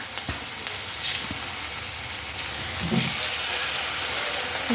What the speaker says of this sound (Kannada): ಈಗ ಎಣ್ಣೆ ಕಾದಿರೋದಕ್ಕೆ ಬಜ್ಜಿಯನ್ನು ಹಾಕೊಳ್ಳವ